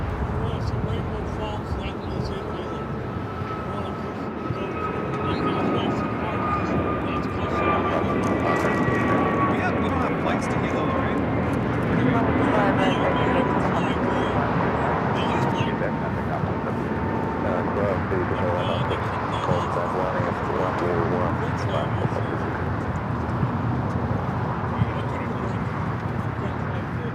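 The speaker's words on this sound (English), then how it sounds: "That was at China Eastern 777 heading back to Shanghai." A China Eastern Boeing 777 jet departing for Shanghai gives a steady, distant engine roar with a faint high whine sliding slowly downward, while people talk over it throughout.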